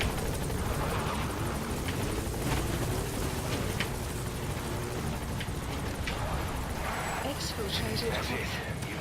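In Metal Gear Solid V: The Phantom Pain, a support helicopter arrives with steady rotor thumping and a heavy engine roar that holds throughout at close range, with scattered crackles and game sounds layered on top.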